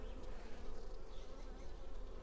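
Honey bees at an apiary, where colonies are being prepared for winter, make a steady, dense, close buzzing hum with no voices.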